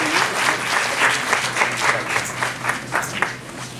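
An audience gives a speaker a round of applause at a Spanish-language talk, with steady, dense clapping that carries on throughout and becomes slightly more scattered toward the end.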